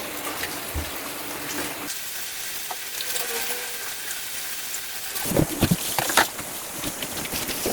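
Chicken sizzles and fries in a pan for chicken pastil, a constant crackling hiss with a few louder bursts of spattering toward the end, heard alone without talk.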